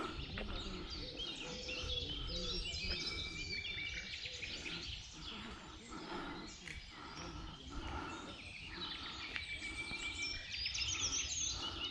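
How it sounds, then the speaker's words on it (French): Small birds chirp and sing along a country path near Sully-sur-Loire, with faint high calls over a dense, low outdoor background, plus a possible distant dog. "Écoutez les petits oiseaux, les copains."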